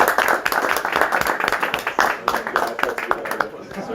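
A small group at an exclusive Rémy Martin cognac salon in London claps for a bartender, a scattered, close round of applause with uneven individual claps and voices talking over it.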